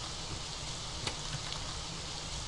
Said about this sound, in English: It's too much rain sound.